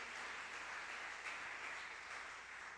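Faint, distant applause from a church congregation, a soft steady wash of clapping with no clear voices above it.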